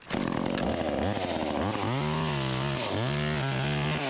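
A cheap Jiggly Dog 12-inch chainsaw runs loud and close, its two-stroke engine revving up and down in repeated surges over a steady droning idle, with no talking.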